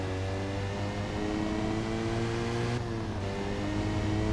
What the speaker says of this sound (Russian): Это потому, что я на мотоцикле.